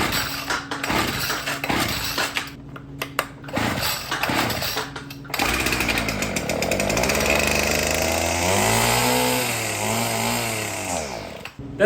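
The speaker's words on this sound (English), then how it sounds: "It's the second weed whacker I've got running." Gas weed whacker engine running after repair, a loud close two-stroke buzz that sputters and surges in bursts at first, then holds a steady whine that rises and falls in pitch with the throttle.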